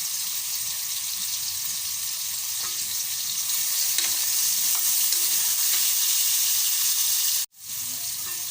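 Garlic, onion, tomato and ginger sautéing in a pan, a loud, steady close sizzle with occasional stirring clicks, briefly cut off near the end.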